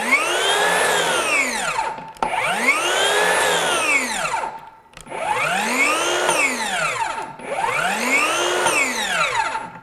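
A Metabo HPT 36-volt 7-1/4-inch cordless circular saw runs in high torque mode, four loud whining spin-ups each rising then winding down, with short gaps between bursts.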